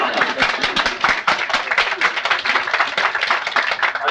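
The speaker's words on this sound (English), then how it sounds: "You all want to applaud now?" An audience at a speech by a Maryland governor breaks into steady applause, a dense crowd of many hands clapping continuously, close and fairly loud, with no gaps.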